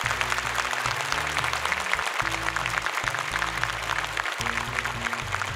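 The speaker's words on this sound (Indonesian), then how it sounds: "Boleh tepuk tangan semangat untuk mereka bertiga." Studio audience applause for three young contestants on an Indonesian Quran memorization competition show, steady broadband clapping running the whole stretch under loud music.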